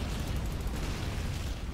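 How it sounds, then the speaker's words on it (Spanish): Rockets exploding in the Men of War tank battle game, a dense, continuous low roar of overlapping blasts and rumble that stays loud and steady throughout, with no clear gaps between detonations. "Tiran cohetes, tiran cohetes,"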